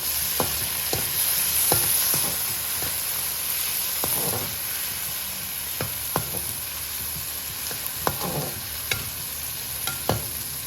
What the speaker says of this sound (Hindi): हम इसमें टमाटर डाल दें। ये इसको अच्छी तरह मिक्स कर लें।